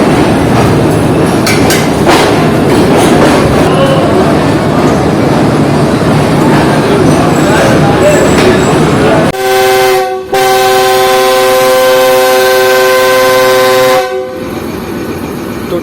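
The Farid Express pulls out of Rohri Junction with a loud, steady rumble and clatter of rolling rail cars, then its horn blares in two long, close blasts separated by a brief gap.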